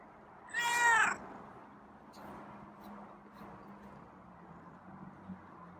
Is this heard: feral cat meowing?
yes